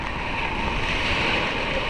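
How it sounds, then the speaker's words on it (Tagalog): Steady roar of ocean surf with wind rushing across the microphone, continuous and fairly loud, no voices. "Kahit malakas ang alon, tapos yung hangin"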